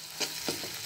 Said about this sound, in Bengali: মুরগির হাতা চামড়া ভাজা হয়ে গেছে